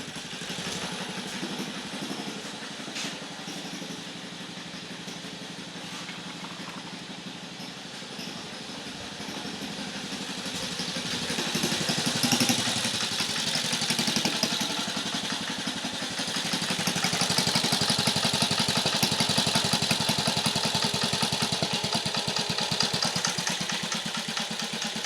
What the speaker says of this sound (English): I heard these things will idle real low.